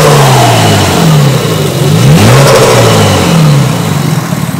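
A 360 bhp Nissan Skyline R33 GTS-t engine revs up and down several times, the pitch climbing and falling in quick bursts, loud and close.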